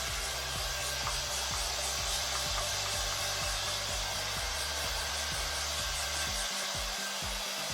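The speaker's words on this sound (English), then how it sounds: "rough dry for a couple minutes to get the majority of the moisture out of our hair" A hair dryer blows steadily at close range, rough-drying damp hair in a salon blowout, its constant whooshing airflow broken by slight shifts as the nozzle moves, with no talking.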